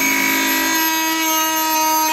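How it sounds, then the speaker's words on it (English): A Milwaukee carbide multitool blade cuts through a plain 2x4, giving a loud, continuous high-pitched buzzing whine with strong ringing tones that stays steady for a couple of seconds, with no talking. "Now we have the Milwaukee carbide with just plain 2x4."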